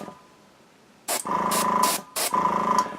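An airbrush sprays paint onto a miniature in short hissing bursts, about three close, fairly loud pulses with a faint pause between, following a quiet stretch.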